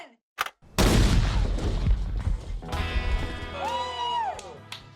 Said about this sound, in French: Voici l'explosion qui va déclencher les carabines SKS